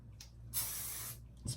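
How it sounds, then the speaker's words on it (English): Hairspray sprayed onto long curled hair, one steady hiss lasting about half a second, close and fairly quiet, with small handling noises before and after. "And I also take hairspray"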